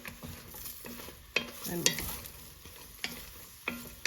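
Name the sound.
king oyster mushrooms frying and stirred in a pan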